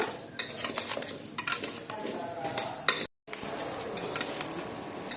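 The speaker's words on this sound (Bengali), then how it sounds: "আলুটা দিয়ে একবার আমি এই এইভাবে একটু ভালো করে নাড়াচাড়া করে নেব" Potatoes with salt and green chillies stirred in a pan over low heat: a metal spoon clinks and scrapes against the pan in uneven strokes, with a light sizzle underneath and one brief dropout to silence.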